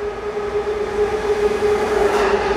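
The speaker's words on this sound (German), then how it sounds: "Der Leipzig, ICE Leipzig. Okay, der fährt hier gerade schön rein." ICE train pulling into Göttingen station, a steady rolling rumble with a sustained tonal hum and rising hiss as it nears, heard alone without talk.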